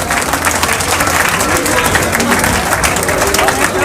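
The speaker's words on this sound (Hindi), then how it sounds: "जोरदार तालियां" A crowd at a village ceremony honouring elders gives loud, sustained applause, a dense wash of clapping with crowd murmur and voices mixed in throughout.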